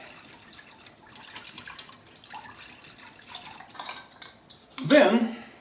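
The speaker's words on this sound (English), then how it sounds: "And we stir it again." A utensil stirs Swedish meatball sauce with calf stock in a metal pot, giving soft scattered scrapes and clinks that build to one louder clattering knock near the end, close by with no clear talking.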